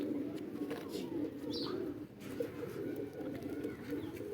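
Pigeons coo softly and repeatedly against a steady low background hum, with a few faint chirps scattered through.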